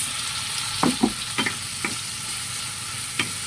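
Tomatoes fry in a pan for kinamatisang manok, a Filipino chicken-and-tomato dish, under a steady hiss of sizzling oil. A handful of sharp spatula knocks and scrapes from stirring break in irregularly, with no talking.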